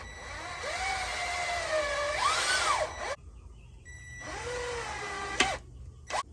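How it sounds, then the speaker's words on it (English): A power drill drives screws into the wooden frame of a homemade acoustic panel for a home studio, whining in rising and falling pitches over two runs with a pause between. "That way you're not blindly screwing it in the wrong place."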